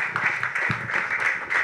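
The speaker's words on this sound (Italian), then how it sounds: "Salutiamolo con un applauso e lo ringraziamo con grande affetto per essere qua" Audience applause at an Italian summer-university conference on intelligence and the judiciary, welcoming the undersecretary of state for justice; a steady, dense wash of clapping from a seated crowd, fairly distant and even throughout.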